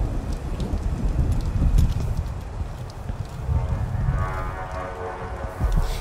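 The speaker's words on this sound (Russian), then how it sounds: "Дождь пошел." Steady rain in the video game Dishonored 2, a constant broadband patter with low rumbling beneath, continuous throughout at moderate level with no voices.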